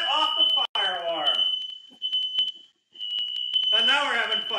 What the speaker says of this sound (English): the fire alarm, which I told you in an earlier episode, is very sensitive in this kitchen, has gone off